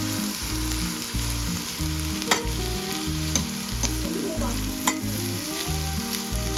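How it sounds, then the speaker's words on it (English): Steady crackling sizzle of food frying in a hot pan with coconut oil, close and continuous, with occasional pops and a rhythmic low music pulse beneath. "I just added a bit more and allowed that to fry"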